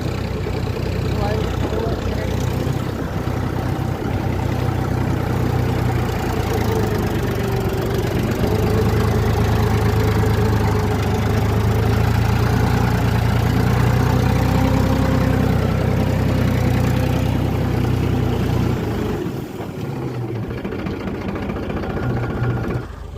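A tractor engine runs steadily while sowing pearl millet in a field, a loud continuous low rumble that holds for the whole stretch, with voices talking over it.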